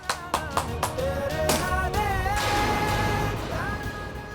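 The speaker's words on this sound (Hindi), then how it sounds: "बजाइए बजाइए, ताली बजाइए।" Several hands clap in a short run of sharp claps at the start, then fade under a swelling dramatic music sting, near and moderately loud in a television drama scene.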